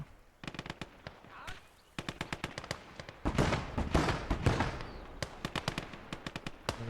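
Cannon fire and other gunfire in the multiplayer war game Gates of Hell, a rapid series of sharp, loud bangs and bursts with heavier booming blasts in the middle, dense and close.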